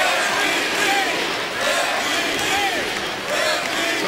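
A basketball arena crowd roars and cheers during an Atlanta Hawks versus Houston Rockets game, a steady loud wash of voices with whoops rising over it, while a commentator talks beneath.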